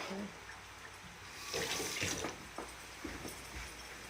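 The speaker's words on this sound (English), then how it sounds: "We might have to just wash my hands before I touch that." Water running from a tap into a sink while hands are washed, with a steady flowing wash that swells louder midway and a few splashy bursts, people chatting faintly in the background.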